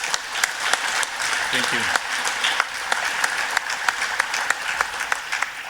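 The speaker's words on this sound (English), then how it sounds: "If you want to give him a round of applause, I appreciate it" An audience applauds a life-saving award recipient with sustained clapping, and a speaker talks briefly over the applause.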